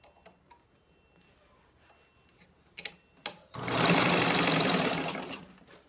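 A sewing machine runs a straight seam on fabric during a DIY medicine and pad holder project, a steady whirring burst of about two seconds following a few light clicks and handling taps.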